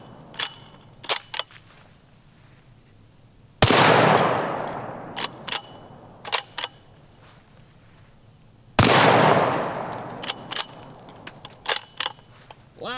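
Two loud, close cracks from an Ultradyne 6.5 precision rifle, each ringing out in a long decaying echo, with faint distant pings of rounds hitting steel targets and scattered clicks and rustles between shots.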